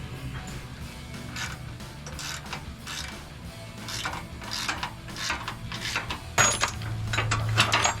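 Wrench ratcheting on the mounting bolts of a Body Armor 4x4 bumper on a Jeep Gladiator JT: quick, repeated metallic clicks in steady bursts, close by, with a louder clunk near the end and no talking.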